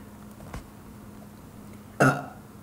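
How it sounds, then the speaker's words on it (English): A single short burp erupts near the end, loud and close, after a quiet stretch with only faint background sound. "That burp."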